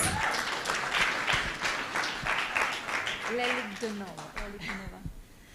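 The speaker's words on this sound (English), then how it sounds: "Please give her a round of applause." Audience applause at a women's advocacy event in Kenya, brisk clapping for the first few seconds, then fading as a voice begins speaking over the tail.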